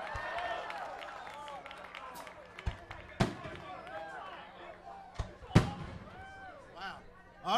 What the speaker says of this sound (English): we'll have to do something that goes with the fireworks